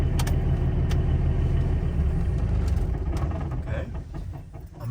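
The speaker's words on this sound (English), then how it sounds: "turn off the engine." A car engine idles with a steady low rumble, then shuts off, the sound thinning and dropping away near the end, while a voice speaks over it.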